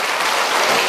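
A church congregation bursts into loud, steady applause and acclamation during a French-language sermon, a dense wash of clapping filling the whole moment without a break.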